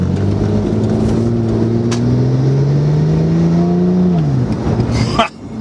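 A 2008 Porsche 997 911 Turbo pulling hard, its engine note climbing steadily in pitch as it accelerates, loud and close inside the cabin, then easing off with a brief thump near the end.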